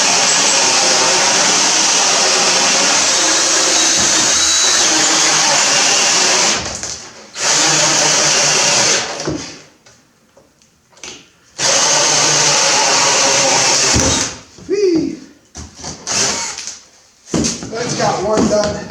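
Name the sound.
drill with hole saw drilling holes in wood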